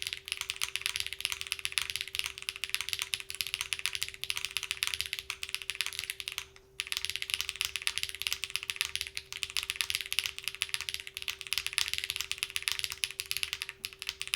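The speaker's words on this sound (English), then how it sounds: "Let's give this a little bit of a typing test here" Steady, fast typing on a Vany Alice mechanical keyboard with a butterfly-themed Alice layout, a dense run of close, crisp keystroke clicks and clacks with one brief pause midway, alone without talk.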